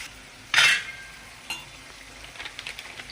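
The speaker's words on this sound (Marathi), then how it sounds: "हे पनीर थोडेसे सोनेरी होऊ द्यायचे" Paneer cubes frying in a pan for a homemade matar paneer bhaji, opening with a loud sizzling burst as the paneer goes in, then a quieter steady sizzle broken by a few light stirring clicks.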